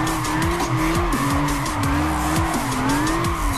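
A Nissan 300ZX drifts in Gran Turismo 5, its turbo engine droning loudly beneath a long, wavering tire squeal that holds steady through the slide.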